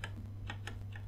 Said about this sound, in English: I do love this Razer keyboard, but it is so loud